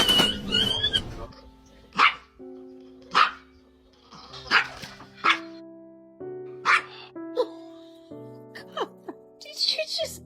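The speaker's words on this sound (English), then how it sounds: "Who's barking?" A dog barks in short sharp bursts, about eight or nine separate barks spaced a second or so apart, close and loud, with people talking in between, in a household where a parrot is also present.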